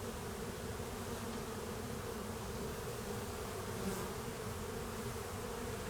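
Honey bees during a January hive inspection make a dense, steady buzzing hum that fills the space continuously at close range, with no talking.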